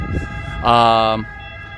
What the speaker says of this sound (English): Some more noise from the ambulance